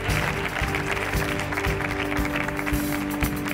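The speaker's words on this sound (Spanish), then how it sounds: "Fuerte el aplauso para Marlender" A loud, steady wash of audience clapping fills a television show studio, dense and continuous with a few cheers mixed in.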